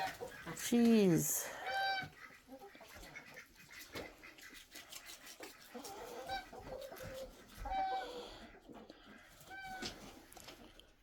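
Backyard chickens cluck and squawk in scattered bursts among geese and ducks, with a loud call early on and quieter clucks after, while a person talks nearby.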